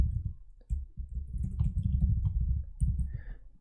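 Keys clack on a computer keyboard in brief, close bursts of clicking with short pauses between them.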